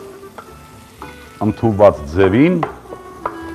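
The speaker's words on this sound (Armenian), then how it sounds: "սոխը նույնպես պետք է ենթարկվի տապակման" Onions frying and being stirred in a pan, a low sizzle beneath a person speaking clearly in the foreground.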